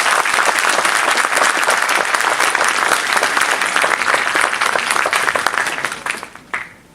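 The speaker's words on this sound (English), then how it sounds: "Please give a big round of applause for Mahen Mj." A lecture audience at a university talk on hyperbolic geometry bursts into dense, sustained applause that holds steady for about six seconds, then thins out and fades to a few last claps.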